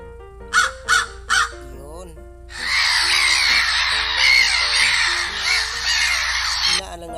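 Three short cartoon crow caws stand out near the start, added as effects in a phone video editor, followed by a long, loud, dense stretch of layered squawking that carries through to the end.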